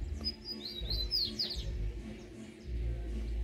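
Songbirds chirp outdoors in a quick string of high, thin notes over the first half, then fade. A low wind-like rumble runs underneath.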